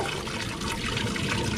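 Water flows steadily over an artificial stone waterfall outdoors, a dense continuous rushing splash heard close and loud with no breaks.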